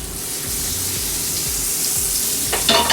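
A generous amount of butter with a little olive oil fries in a pan, a steady close hiss with a faint crackle, plus a brief clatter near the end.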